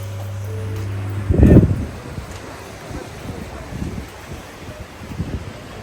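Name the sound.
wind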